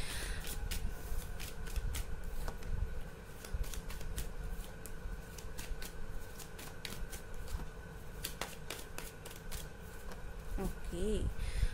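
Tarot cards are shuffled and drawn with soft, repeated riffling and flicking close by. A voice talks quietly underneath.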